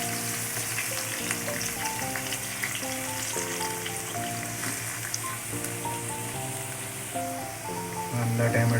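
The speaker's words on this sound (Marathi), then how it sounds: "पहिला आपल्याला आलं लसूण जे किसले ते आपण घालून घ्यायचे. कढीपत्ता घालून घेऊया आणि आपण कांदा घालून घेऊया." Grated ginger and garlic, curry leaves and onion fry in a pan for a prawn masala, a steady sizzle running beneath a prominent melodic tune that plays over it the whole time.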